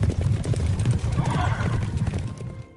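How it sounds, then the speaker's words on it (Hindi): Horse hooves clip-clop steadily outside a ruined building as a rider approaches, close and fairly loud, with a voice murmuring over the hoofbeats. "तभी अचानक बाहर से घोड़े की टाप सुनाई दी।"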